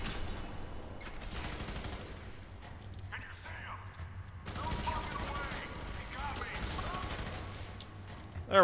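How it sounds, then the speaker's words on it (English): Rapid gunfire bursts in the first-person shooter Fear 3, with stuttering automatic fire in several loud volleys separated by brief lulls, backed by a low rumble of game ambience. "Where the hell are you people shooting from?"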